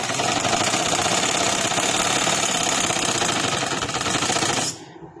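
Sewing machine running steadily as it stitches a seam on a lawn or cotton trouser, a dense continuous mechanical whir that stops abruptly near the end, with no talking.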